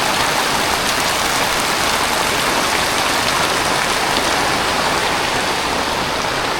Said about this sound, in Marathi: पावसाचा जोर वाढतोय